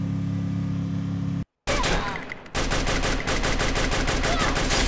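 Gunfire in Free Fire: loud rapid automatic shots firing in a steady stream after a steady engine-like drone and a brief cut to silence, close and dominant.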